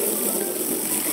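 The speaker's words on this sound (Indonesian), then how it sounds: "Dengan demikian pompa akan menyala." A Sanae 256A booster water pump runs as an opened tap pours, giving a loud, constant rush of water over a steady mechanical hum.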